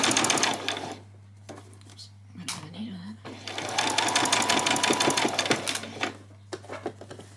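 Sewing machine stitching a ruffle onto fabric for a spring outfit, running in several bursts of rapid rattling stitches with short pauses between, close and fairly loud over a steady low hum, with a voice talking in between.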